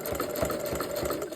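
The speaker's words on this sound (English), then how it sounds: "I'm not pushing or pulling as I'm sewing. I'm just letting the machine go do its thing." A sewing machine stitches a jelly roll rope rug, its needle chattering in a steady, quick rhythmic pulse over a constant motor hum, fairly soft and close.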